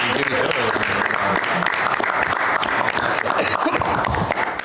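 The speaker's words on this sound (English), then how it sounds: "give the administration and the citizens from council a round of applause" A town hall council meeting audience applauds steadily and loudly throughout, a dense sustained clapping from a room full of people with no pauses.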